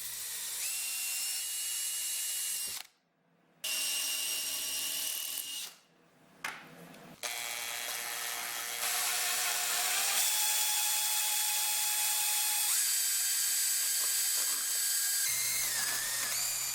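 Power drill boring a hole into a rubber tire, a loud sustained whine that pauses briefly twice and then runs on steadily with shifting pitch, alone without talk.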